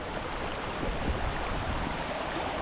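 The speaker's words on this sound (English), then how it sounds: "So this is the creek I was talking about" A creek at a rural campground site flows steadily: an even, close rushing and burbling wash of water with no pauses, and no talking.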